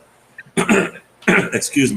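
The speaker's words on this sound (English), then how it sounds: "I just needed to clear my throat." A man clears his throat with two rough bursts about half a second apart, close and fairly loud, sounding throat-heavy rather than like speech.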